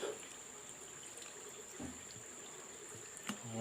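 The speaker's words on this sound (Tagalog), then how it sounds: "Tapos dagdagan din natin siya ng konting tubig guys." A little water is poured into a cooking pot holding fish and vinegar, heard as a faint, steady trickle at a quiet distance, with a couple of soft knocks near the end.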